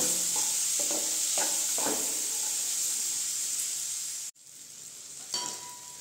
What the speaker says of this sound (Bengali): এখন আমি এইগুলোকে একটু ভালো করে ভেজে নেব